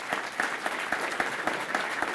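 Audience applause for a manufacturing award presentation at a regional chamber economic forecast event, a steady mid-level patter of many hands with faint clap peaks throughout, no one talking.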